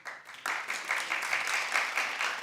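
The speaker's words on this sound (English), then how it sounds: "Clap if you would." Light, scattered clapping from a small number of audience members at a talk show taping, starting thin and then swelling into a modest patter that continues steadily.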